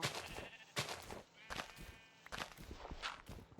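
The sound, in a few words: sheep bleating in Minecraft video game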